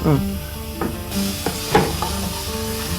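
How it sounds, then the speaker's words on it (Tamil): Small sambar onions sautéing in a pan for onion rasam, giving a close steady sizzle with a few short scraping stirs, a voice talking faintly underneath. "இது வந்து நல்லா ரோஸ் கலரில் வர வரைக்கும் இதை வதக்கிடணும்ப்பா"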